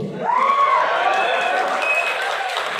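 Audience applause at a live motivational talk, a dense wash of clapping and crowd noise that swells briefly and holds steady, with voices and some cheering mixed in.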